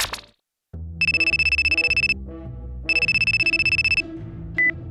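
Telephone ringback tone on an outgoing call: two long electronic ring bursts with a gap between them, loud and close, with a brief tone near the end and no talking.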